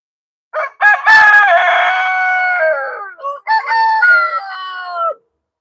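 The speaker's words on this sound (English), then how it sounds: "These are gorgeous roosters." Two roosters crow back to back, each call loud and near with a stuttering start and a long drawn-out tail, separated by a brief pause and no other sound.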